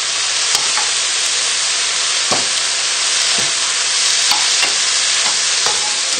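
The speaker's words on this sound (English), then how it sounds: "just add the noodles straight in and we'll give them a little mix together" Noodles and wilting vegetables being stir-fried in a pan for a Chinese chicken thigh dish, a loud continuous sizzle with periodic scraping clicks as they are tossed, close up and without talk.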